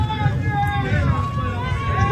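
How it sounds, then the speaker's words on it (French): A crowd jeers and boos at politicians, including the president of the European Commission and the Italian head of government, a continuous murmuring roar of many voices with rising and falling tonal calls throughout. "ils se font huer par la foule"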